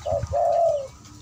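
A pet dove, kept about a year, coos close and clear: a brief low note, then a longer drawn-out rolling coo, alone against a quiet background.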